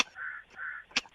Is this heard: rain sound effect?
no